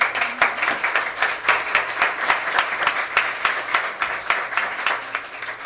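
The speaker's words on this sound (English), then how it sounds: "I think a round of applause is called for" Audience applause after a League of Women Voters candidate forum in Paradise, a steady crowd of many hands clapping continuously and fairly close, with no talk over it.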